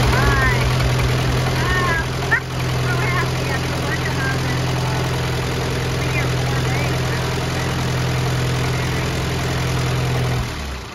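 A 1949 Ford 8N tractor engine idling at a steady, even rumble for the whole stretch, loud and close, with a brief knock early on and occasional voices faintly underneath.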